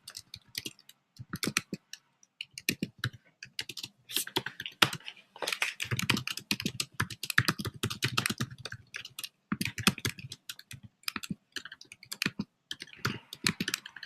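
Fingers type on a computer keyboard in quick, uneven bursts of close, crisp key clicks, with brief pauses between runs and no voices.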